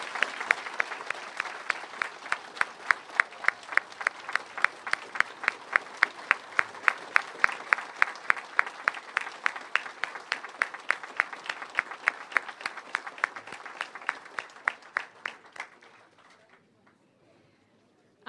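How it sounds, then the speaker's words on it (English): Audience at a public information meeting on hospital access in Ellerslie applauds the Stewart Memorial Hospital committee, a steady run of close, crisp claps lasting about fifteen seconds before fading out to near silence. "give your friends at Stewart Memorial Hospital committee a round of applause"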